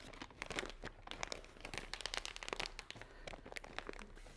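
Bulk food storage bag being zipped shut by hand, a steady run of close, crinkly plastic rustling and sharp crackles that lasts throughout.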